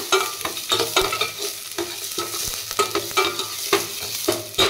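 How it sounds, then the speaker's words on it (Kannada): Green chillies and dry red chillies frying in a pan for a fenugreek dal recipe, with a steady sizzle broken by repeated scraping stirs of a spoon against the metal, close and alone without voices. "3 ಒಣಮೆಣಸಿನ್ಕಾಯಿ ಹಾಕ್ಬಿಟ್ಟು ಚೆನ್ನಾಗಿ ಫ್ರೈ ಮಾಡ್ಕೊಳ್ಳೋಣ"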